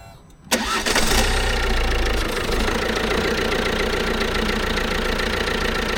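A Fiat Egea 1.6 Multijet automatic's diesel engine cranks and catches with a sharp start, then runs loud and steady with a rough, knocking rumble that stays revved throughout.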